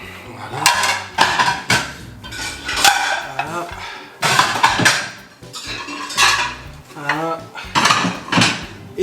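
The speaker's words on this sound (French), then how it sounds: "Et voilà la vaisselle, c'est une casserole." Dishes being washed at home, with a saucepan and cutlery clattering and clinking in repeated bursts of scraping and knocking close by, with brief pauses between.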